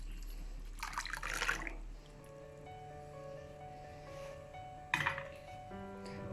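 Spinach cooking water is strained and poured back into cooked kong spinach, quiet liquid trickles and drips with a soft clink of utensils, a brief splashy pour near the start and another near the end.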